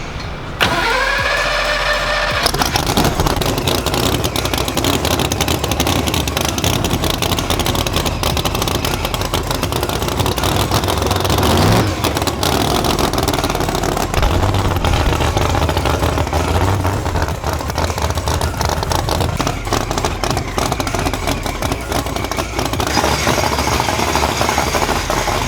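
A drag race car with a Ford mod motor and 4-valve heads cranks and starts, then runs loud and close at a steady, rough roar for the rest of the clip.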